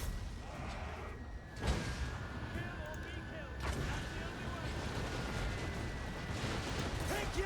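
Heavy booming cannon blasts in a video game battle on a settlement map go off repeatedly amid a dense, continuous roar of battle, with a few deep thuds standing out.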